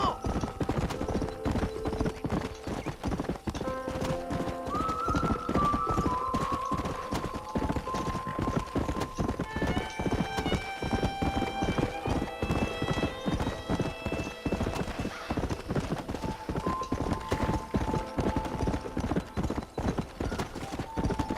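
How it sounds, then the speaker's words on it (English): Horse galloping in the Western video game Red Dead Redemption: steady clip-clop hoofbeats run throughout alongside whinnies, layered with game music and someone talking over it. "I do know this horse is probably a lot slower."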